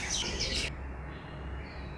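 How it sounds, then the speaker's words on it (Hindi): Birds chirping and twittering after being released from cages, a dense burst of high calls at the start that quickly thins to faint, scattered chirps over a low ambient rumble. "फिजा चहचहाते हुए परिंदों से भर गई"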